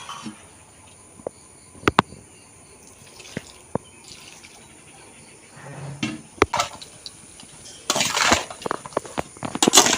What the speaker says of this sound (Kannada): ಸ್ವಲ್ಪ ಉಪ್ಪು ನೀರು ಹಾಕೊಳ್ಳು